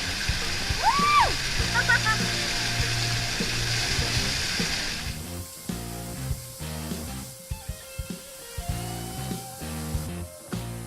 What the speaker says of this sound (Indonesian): ini adalah spot terakhir air terjun Git-Git